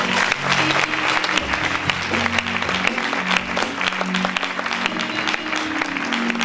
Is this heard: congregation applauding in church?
yes